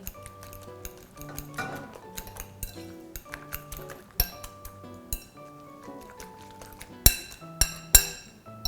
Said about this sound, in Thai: ตีไปสักพักหนึ่งให้ฟองมันขึ้นเยอะ ๆ นะคะ